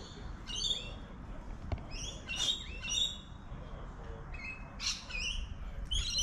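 A maya sparrow chirps from a backyard tree in short, bright bursts of tweets and squawks at irregular intervals over a faint, low background.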